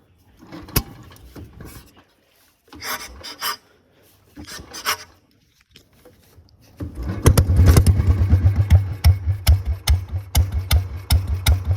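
A tractor fitted with a tin-can silencer is cranked, with a few short rasping turns over, then the engine catches into a loud, rapid, popping rumble close by.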